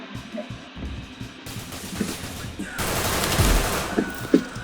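Gunfire in the video game Severed Steel comes as a rapid, dense volley of shots layered over a busy game soundtrack, building louder toward the end with a heavy thump near the close.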